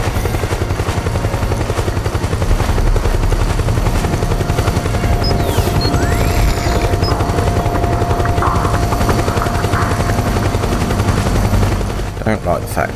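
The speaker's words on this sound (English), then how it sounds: "Don't like the fact that there's a chopper." A helicopter in the video game Metal Gear Solid 4 gives a loud, steady rotor drone throughout, with bursts of gunfire and occasional booms mixed in.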